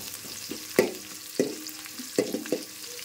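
Green chillies, onion and curry leaves frying in a pan, with a soft sizzle beneath several sharp scraping stirs of a spatula against the pan, spaced unevenly and close.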